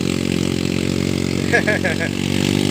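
A three-wheeler motorcycle in second gear climbs a hill towing an 800 kg trailer, its engine a steady, droning hum throughout, with someone briefly speaking over it near the middle.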